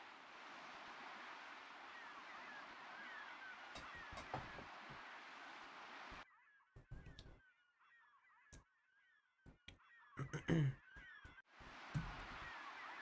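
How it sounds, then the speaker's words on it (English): Looping seagull sound effect from The Legend of Dragoon, heard over a steady surf-like wash: honking cries repeat through the middle stretch, fairly loud and alone, with no talking. "Thank you, looping seagull sound effect."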